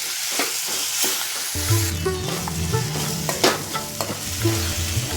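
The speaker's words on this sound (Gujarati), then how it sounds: "તો મસ્ત રીતે આપણી ડુંગળી અને ટમેટું બે મીઠું અને હળદર સડી ગઈ છે અને ગ્રેવી આપણી સડી ગઈ છે" A gravy of onion, tomato, salt and turmeric sautés in a pan, loud close sizzling and frying with a spoon stirring and scraping through it, no voices.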